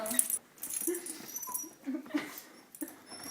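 A puppy named Roxy whimpers in greeting, giving short, high, thin whines at intervals over soft rustling and jingling, close by, with faint voices in the background.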